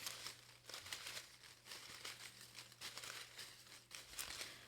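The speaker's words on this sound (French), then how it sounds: "Je vais brasser ça comme il faut." Tarot cards are shuffled close by, with soft papery riffles and rustles repeating in rapid, even waves over a faint low hum.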